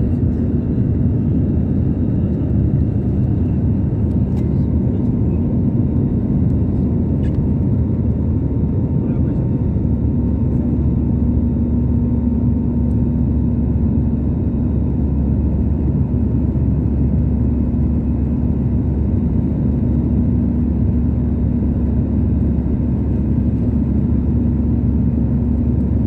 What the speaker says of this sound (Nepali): नेपालकै जेट विमानमा ठुलो विमानमा म पहिलोपटक चढेको हो